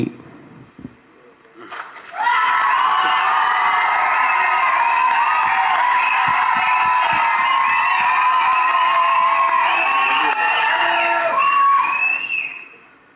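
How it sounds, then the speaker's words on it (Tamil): An audience at a Tamil film event speech bursts into loud, sustained cheering and applause, a dense wall of crowd noise rising abruptly and holding for about ten seconds before cutting off. "பேரை சொல்லாமலே இவ்வளோ கைத்தட்டலாம்"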